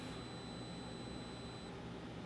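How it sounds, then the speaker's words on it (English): A Polaroid Cube action camera gives a long, steady, high-pitched electronic beep lasting under two seconds. It is faint against a low background hum. "after a very long beep."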